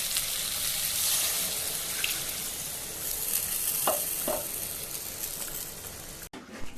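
Water poured into a pan of sautéed meat and potato curry, a loud continuous rushing sizzle, briefly interrupted by a couple of spoon clinks before cutting off abruptly.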